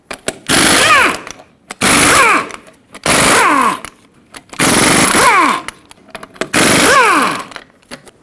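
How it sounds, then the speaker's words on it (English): An impact gun on a 21mm socket zips off the lug nuts of a 2011-2016 Ford F-350 front wheel in five loud, close bursts of roughly a second each, separated by short pauses. "So with a 21mm socket, remove them all."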